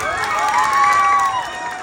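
A pageant crowd at a trans beauty contest cheers loudly, with high sustained shouts and squeals rising and falling over a wash of clapping for under two seconds.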